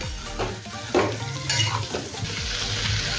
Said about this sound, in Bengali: কিছুক্ষণ সময় নিয়ে আলু, পটল, চিংড়ি মাছ মশলার সাথে কষিয়ে নেব।